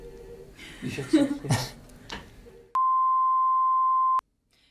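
A voice talks briefly, then a single steady electronic tone sounds for about a second and a half and cuts off abruptly into silence.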